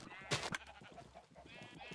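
Sheep in a Minecraft sheep farm bleat in short, wavering cries, one sharp call near the start and softer overlapping bleats after, fairly quiet against a faint background murmur.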